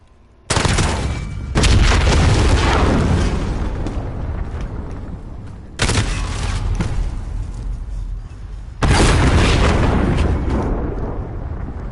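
Three loud, heavy booming blasts from cruise missile strikes in Call of Duty: Modern Warfare, each hitting abruptly around a few seconds apart and rumbling on with a long, slowly fading roar, no talking.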